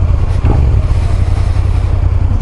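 A motorcycle is ridden on the road, a loud, steady engine rumble close by with constant buffeting, no separate voices.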